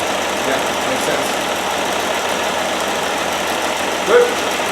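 A 1969 Series 2a six-cylinder engine idles steadily nearby with an even, rumbling drone and no pauses, with a brief small knock near the end.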